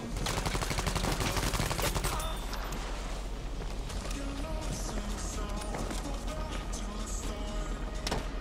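Rapid automatic gunfire in Battlefield Firestorm battle royale, a dense burst of shots up front fading into continued firing and game noise, with a voice talking over it.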